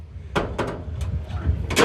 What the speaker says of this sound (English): And I'll shut the doors and I'll just let this warm up a little bit.